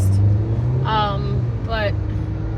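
Cars idle and roll through a hurricane-hit intersection where the traffic lights are out, a steady low engine rumble underneath a voice that speaks briefly.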